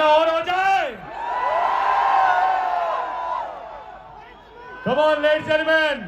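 A large crowd cheers and whoops at a star's stage show in Riyadh, a loud sustained roar in the middle, with an amplified voice talking at the start and end.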